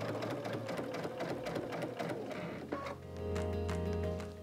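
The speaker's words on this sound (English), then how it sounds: "remove your pins as you sew." A sewing machine stitches quilt blocks in steady, close mechanical runs, its rapid needle chatter pausing briefly before resuming with a smoother hum.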